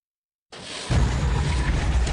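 Secondary explosions from bomb hits in a war video game: a sudden loud burst opens into a sustained, rumbling roar that stays heavy and continuous to the end, with no talking.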